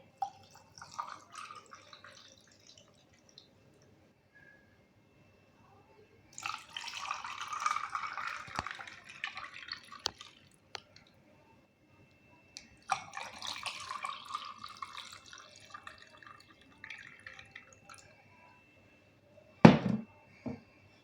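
Sherbet syrup poured into a glass of mint lemonade in a home kitchen, heard as bursts of trickling, splashing liquid with quiet gaps between them, ending in a sharp clink near the end.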